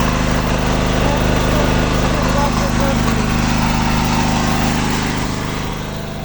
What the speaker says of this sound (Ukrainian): рекомендую всім купити такий генератор, він дуже тихий